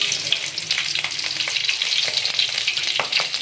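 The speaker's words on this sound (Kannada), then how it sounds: "ಮೆಣಸಿನ್ಕಾಯಿ ಹಾಕ್ಕೊಂತ ಇದ್ದೀನಿ." Green chillies crackle and sizzle in hot oil, a steady bright frying hiss with frequent small pops running throughout, close and fairly loud with no talking.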